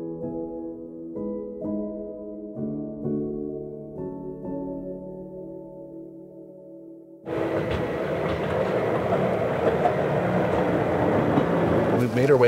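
The Gornergrat rack train near the Matterhorn and Zermatt rumbles along its rails with a loud, steady roar. It follows a run of soft, tuneful tones.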